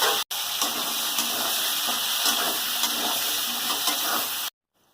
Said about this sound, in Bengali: ওই তেলে আলুটাও ভেজে নেব।